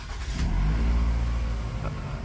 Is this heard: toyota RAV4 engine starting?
yes